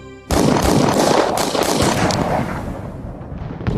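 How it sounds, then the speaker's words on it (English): A sudden burst of heavy gunfire erupts after a brief quiet, rapid shots cracking in quick succession before gradually thinning out. "The silence was followed by the sound of gunfire."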